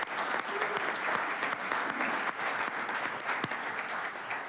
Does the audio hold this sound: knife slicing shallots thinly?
no